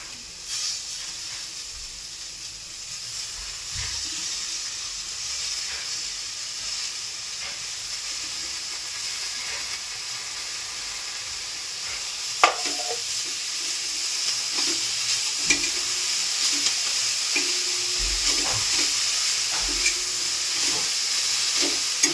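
Drumstick flowers hiss and sizzle in a pan with homemade red masala, a steady moderate frying hiss with a few clicks and knocks of utensils, no talking.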